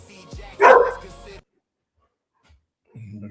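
A dog barks once, close and loud, after a short stretch of room noise, followed by silence and then a faint low sound near the end.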